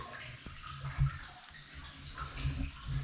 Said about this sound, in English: there is some water flowing in here